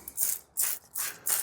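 A sponge loaded with leather cleaner rubbed over wet leather on a BMW X5, heard as four close, rhythmic swishing strokes, each a bright scrubbing rasp separated by brief pauses.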